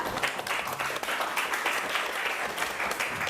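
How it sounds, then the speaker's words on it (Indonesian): A classroom audience claps steadily after a group presentation, a close, continuous patter of many hands with little else audible. "Tepuk tangan dulu kelompok kita."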